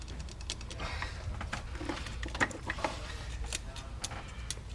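Ratcheting with an 8mm universal socket on a 2002-2005 Land Rover Freelander: a quiet run of rapid clicks and ticks, fairly close, with small irregular bursts of clicking and no talking.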